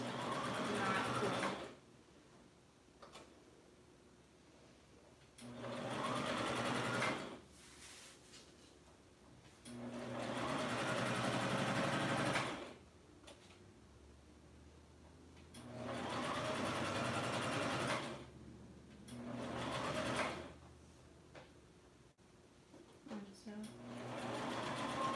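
Sewing machine stitching a seam in fabric, a steady close whirring that runs in several bursts separated by pauses, with a person talking between and over the runs.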